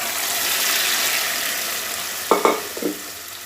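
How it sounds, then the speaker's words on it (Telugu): Mustard seeds, garlic, dried red chillies and cumin fry in hot oil as a tempering for a Telugu amaranth-leaf dal. A steady hiss of sizzling runs throughout, with a few brief clattering stirs near the end. "తాలింపు అంతా కూడా చక్కగా వేగిపోయిందండి."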